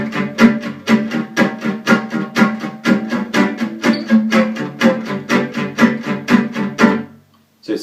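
Jazz manouche acoustic guitar strums chords on G6-9 in a brisk, evenly pulsed swing rhythm of chopped strokes, close and clear, ending with a final ringing chord.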